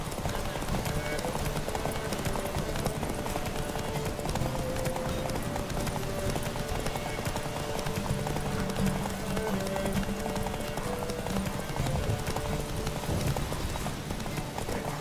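Galloping hoofbeats from Roach, a horse racing in The Witcher 3, pound steadily and continuously beneath a dense, loud wash of game music and crowd ambience.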